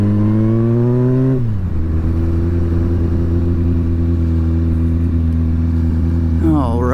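A turbocharged Yamaha FZ1 motorcycle engine drones while riding, loud and close, falling from a higher pitch to a steady lower hum that holds before rising again near the end; no one speaks over it.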